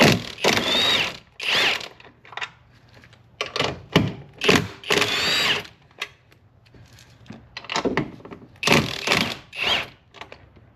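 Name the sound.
impact wrench removing 15 mm strut top nuts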